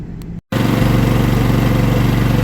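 A Predator 11500 generator runs in econo mode beside a motorhome, heard as a loud, steady, close engine drone with a pulsing rhythm, after a brief dropout.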